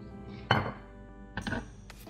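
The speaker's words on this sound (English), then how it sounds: "And got some ice just to fill it up." Ice dropped into an old-fashioned cocktail glass already holding bitters, old-fashioned mix and Woodford Reserve Double Oaked bourbon: two bright clinking bursts, the second a quick cluster, close up in a quiet room.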